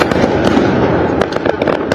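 Firecrackers and fireworks crackle and pop in a dense, continuous burst of sharp bangs over a rough noisy background, loud and a little distant.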